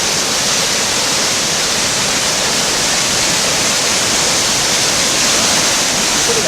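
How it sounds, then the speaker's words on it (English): Class 5 whitewater rapids in Muddy Creek Gorge roar in a dense, constant broadband rush, loud and close, with no pauses. "Look at that whitewater."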